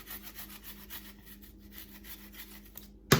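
Food is rubbed by hand over a grater for groundnut stew, a rhythmic rasping scrape repeating in quick strokes at close range, with no talking, ending in a sharp clatter.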